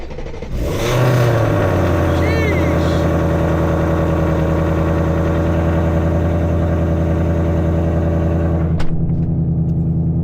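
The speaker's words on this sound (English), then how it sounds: "let's go ahead and get a nice cold start" A 2024+ Ford Mustang engine cold-starts up close: a brief crank, then a loud rev that settles into a steady, high fast idle drone lasting several seconds before cutting off near the end.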